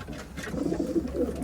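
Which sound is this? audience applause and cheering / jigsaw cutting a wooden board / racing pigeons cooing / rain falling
racing pigeons cooing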